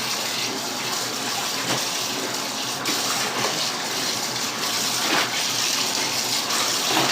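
Tap water runs steadily onto fabric being soaked for dyeing, a continuous splashing gush, close and moderately loud with small shifts in flow, no speech.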